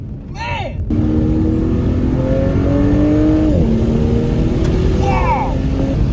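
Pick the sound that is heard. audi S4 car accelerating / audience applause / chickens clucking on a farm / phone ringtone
audi S4 car accelerating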